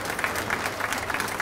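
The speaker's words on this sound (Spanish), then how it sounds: "Fuerte el aplauso entonces para el Ministro del Interior, Rogelio Frigerio" Audience at the 83rd Sociedad Rural de Río Cuarto exposition applauds in the stands, a steady patter of many hands clapping at moderate volume, with no voices over it.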